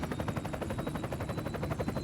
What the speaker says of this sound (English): We can, with this helicopter, get to places that really otherwise are completely unreachable.